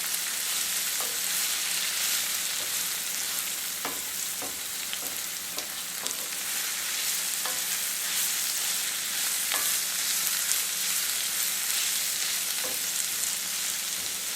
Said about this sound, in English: your veggies in and saute. You want a hot skillet to saute.